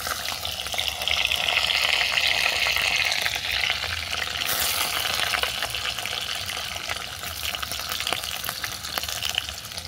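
Chopped beans and carrots fry with bay leaf in a pan, giving a steady, loud sizzle and crackle with occasional stirring scrapes throughout.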